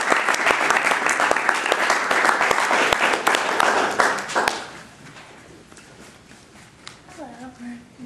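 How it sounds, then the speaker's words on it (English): A youth gathering audience gives loud applause that lasts about four seconds before fading into scattered claps and room noise, with a voice beginning to speak at the end. "So if you guys could clap for Caty"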